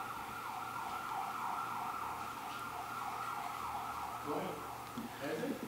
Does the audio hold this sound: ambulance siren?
yes